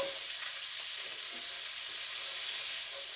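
Chopped onions sizzle in a skillet on the way to a Salisbury steak dinner, a steady bright frying hiss with faint stirring, close and unbroken.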